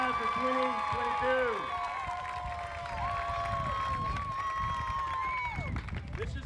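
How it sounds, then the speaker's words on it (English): Audience applause for a high school graduating class of 2022 at a senior walk, a steady wash of clapping and crowd noise with scattered cheers, heard at moderate distance amid background chatter. "So please join me one more time in giving them a big round of applause to the high school graduating class of 2022."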